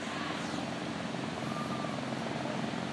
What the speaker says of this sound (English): So here you got a helicopter coming in.